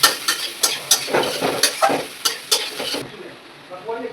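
Masala for pasta frying in a pan with Maggi seasoning, stirred in a run of sharp, regular scrapes over a steady sizzle, then the stirring stops and only the quiet sizzle carries on.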